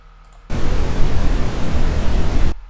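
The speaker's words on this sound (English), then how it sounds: "I'll make X to be 2 seconds of noise." Two seconds of computer-generated broadband noise, a loud flat hiss that starts and stops abruptly, alone with near silence on either side.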